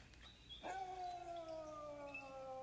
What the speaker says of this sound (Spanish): ¡Están aullando!